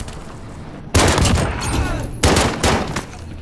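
An automatic gun fires in a 3v3 video game gunfight, with two loud, close bursts of rapid shots separated by a short lull.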